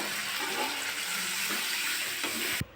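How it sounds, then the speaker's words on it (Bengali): Water pours into sizzling masala oil for a folui fish curry, giving a continuous, loud, rushing hiss close by that ends abruptly. "আমি এবার জল দিয়ে দেবো।"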